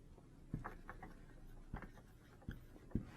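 Chalk or marker writing on a board in a classroom during a mathematics lesson, faint scattered taps and short strokes in an irregular rhythm, quiet and close with little else audible.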